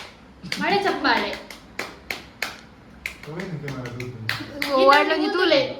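People perform a 'rain clap' clapping routine meant to imitate rain: a series of separate, evenly spaced hand claps between stretches of lively talking voices.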